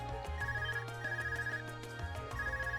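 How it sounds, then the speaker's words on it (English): An ARCUS communication device ringing in the video game Trails of Cold Steel, a steady electronic ringtone repeating in short bursts over soft game background music. "Is that your Arcus ringing?"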